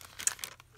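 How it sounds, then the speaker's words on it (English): Noisy craft paper from a junk journal papercrafting kit crinkles and crunches in a few close, brief bursts, with no talking. "So you get some of this amazing paper, the noisy paper."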